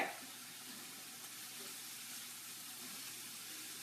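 Pesto heats in a saute pan with a steady, faint sizzle and soft hiss under a quiet kitchen background, with little change over the few seconds.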